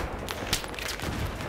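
Short burst of Battlefield 3 multiplayer gunfire, a few sharp shots cracking at moderate distance over a steady background rumble, fairly quiet overall.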